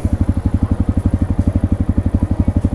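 A dirt bike engine running close by, a loud rapid regular thumping pulse that holds steady throughout.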